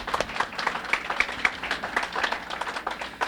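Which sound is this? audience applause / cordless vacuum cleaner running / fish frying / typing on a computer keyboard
audience applause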